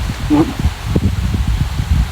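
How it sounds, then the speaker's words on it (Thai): Strong wind gusts through trees outdoors, a close rough buffeting rumble with rustling, while a voice speaks briefly over it. "กล้องสัานเลยลมแรง"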